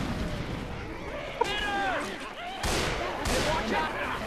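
Rapid gunfire from Left 4 Dead 2 during a survival-mode round at the Rock Concert map, sharp shots and blasts rattling over continuous game noise while players talk throughout.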